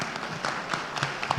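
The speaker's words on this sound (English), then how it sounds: "Round of applause." Applause for a student in a law enforcement lecture class, a short scattered patter of claps under a noisy room.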